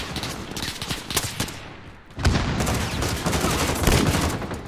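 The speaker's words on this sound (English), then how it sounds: "Why is there gunfire everywhere all the time?" Dense video game battle gunfire crackles without pause, with overlapping rifle and machine gun bursts and heavier impacts, loud and continuous throughout.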